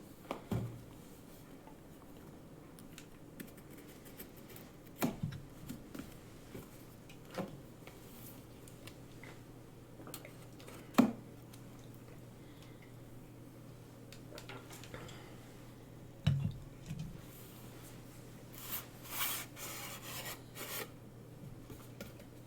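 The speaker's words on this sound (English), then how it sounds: "let's open up the main console and see what we've got inside" Cardboard and plastic packaging of an Atari VCS console is rubbed, scraped and handled. Soft rasping and scattered light knocks come close by, with a brief steady hum partway through.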